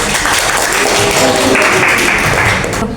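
Audience applause in a classroom teaching session, a dense burst of clapping from a group that holds steady and fades slightly at the end.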